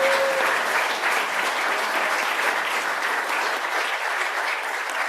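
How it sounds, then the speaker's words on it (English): A room full of people at an awards celebration claps for the honorees, a dense, even roar of applause that holds steady throughout at a moderate distance. "Let's give them a well-deserved round of applause."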